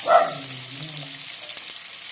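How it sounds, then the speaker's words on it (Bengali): Potatoes fry in a pan over a high flame, giving a soft, steady sizzle that swells briefly at the start and then settles into a faint, even hiss. "এবার এই আলুগুলো আমি আস্তে আস্তে ভাজা ভাজা করবো"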